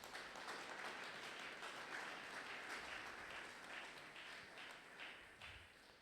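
A church congregation at a Sunday worship service applauds, a dense sustained wash of many hands clapping that holds steady for several seconds before tapering slightly, heard from a distance.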